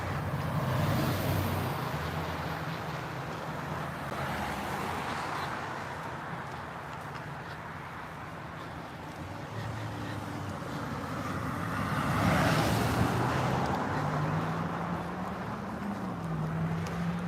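Busy main street traffic in Kennett Square, Pennsylvania at rush hour, vehicles rumbling by continuously with swells as cars pass close, low engine drone and road noise.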